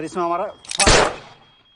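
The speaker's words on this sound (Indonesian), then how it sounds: "mereka berdua mengeluarkan pistol dan menembak Anan" A short voiced tone is followed by a single sharp gunshot with a brief echoing decay.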